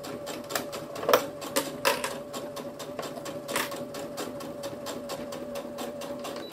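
A sewing machine topstitches fabric for a phone pouch, a quiet, steady mechanical whir broken by rapid, regular needle ticks with a few brief louder clicks, heard close with no speech.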